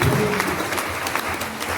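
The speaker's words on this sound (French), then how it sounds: "Alors je vous demande de vous applaudir" An audience at a French political gathering about the far right applauds, giving a short burst of continuous clapping with crowd noise and faint voices underneath.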